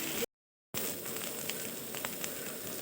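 Ginger-garlic paste hitting onions frying in a pan for mochar ghonto, a steady close hissing sizzle that cuts out briefly, then returns with a few faint crackles and pops.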